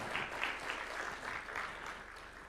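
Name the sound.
applause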